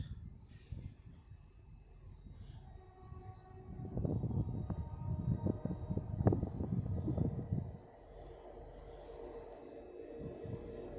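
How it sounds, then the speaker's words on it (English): TransPennine Express Class 185 diesel unit from Manchester Piccadilly pulling into York station, a low rumbling engine and wheel noise swelling in the middle and then easing off, with station ambience around it. "The next train to be coming in will be a Trans-Pennine Express Class 185 from Manchester Piccadilly."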